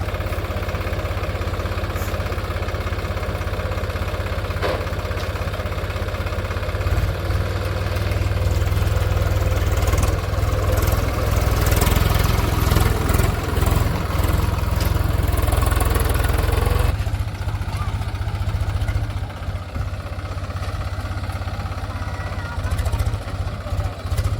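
A tractor engine runs in a wheat field, holding a steady low chugging drone throughout, swelling louder and rougher for a stretch in the middle before settling back.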